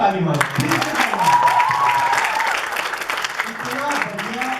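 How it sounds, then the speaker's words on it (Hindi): Stand-up comedy show audience clapping again, a lively rush of applause from the crowd with a voice speaking over it at the start and end. "एक बार रुको और फिर से ताली मारो"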